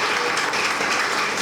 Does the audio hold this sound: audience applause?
yes